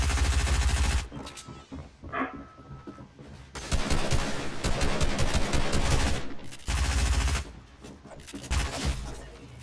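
Bursts of rapid automatic gunfire from the video game Fortnite, loud and close, arriving in several long volleys separated by short gaps, with no talk over them.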